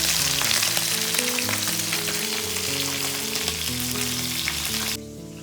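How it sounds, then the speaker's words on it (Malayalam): Fish fries in a pan with a loud, continuous sizzle and spatter over a low hum, then drops abruptly to quieter near the end. "അടുത്ത് മീൻ പൊരിക്കാൻ കൂടി ഞാൻ ഇട്ടിട്ടുണ്ടായിരുന്നു"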